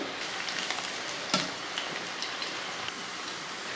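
Chilli pieces deep-frying crisp in hot oil give a steady, fine crackling hiss throughout, with one sharper pop partway in, moderately quiet with no talking.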